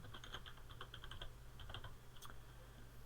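A name being typed on a computer keyboard: a quick run of soft, close keystrokes, then a brief pause and a few final taps, faint in a quiet room.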